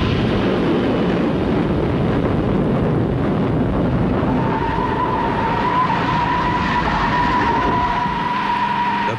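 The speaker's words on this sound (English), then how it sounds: "Brakes are applied, but the wheels catch fire." An atomic-powered airliner brakes hard on landing, its wheels skidding in a continuous loud scraping roar, with a rising squeal tone emerging midway and holding to the end.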